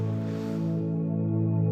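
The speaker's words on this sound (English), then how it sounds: "the sound you hear is a sound by the sun captured by NASA" A low, steady drone of layered humming tones sustains without change, smooth and continuous, a NASA recording of the sun's sound.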